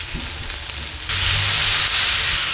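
Chicken pieces drop into a pan of frying tomatoes for chicken afritada, setting off a loud, steady hiss of sizzling oil that jumps in intensity about a second in and holds close and continuous.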